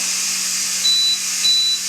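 Carey electric pressure canner steadily hissing as it vents steam, with two thin high beeps sounding in succession over the continuous hiss, close by and with no talk.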